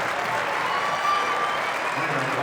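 Rutgers wrestling fans cheer and applaud a tech fall at 125 pounds, a dense, steady roar of clapping and crowd noise filling the arena throughout.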